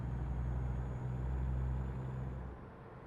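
A truck in American Truck Simulator rumbles along at low speed through narrow gaps, its engine drone steady and close before easing off near the end, with no talk.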